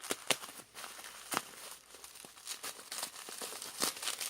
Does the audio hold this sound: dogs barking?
no